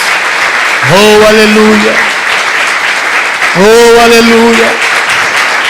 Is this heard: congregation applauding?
yes